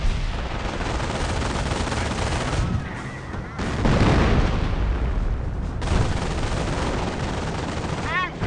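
Sustained gunfire and machine-gun bursts fill a Company of Heroes Mobile battle at the Scheldt, loud and dense throughout with heavier booms mixed in and a short dip partway.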